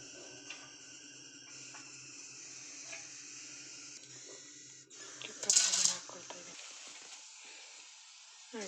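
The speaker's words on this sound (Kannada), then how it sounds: "ಹಾಗೆ ಸಾಸಿವೆ, ಜೀರಿಗೆ ಹಾಕ್ಕೊಳ್ತಾ ಇದ್ದೀನಿ." Mustard seeds and cumin hit hot oil for tempering a masala rice dish with field beans, giving a sudden sharp crackling sizzle for about a second amid quieter kitchen clatter and faint hiss.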